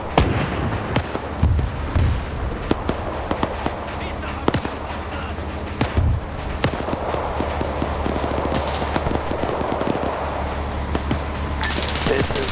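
Gunfire in a WW2 German-versus-Soviet battle game: sharp shots and bursts crack at irregular intervals over a constant low rumble, some near and loud, others more distant, with voices talking underneath.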